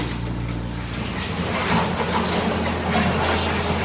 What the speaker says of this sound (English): Scraping the gravel off the driveway.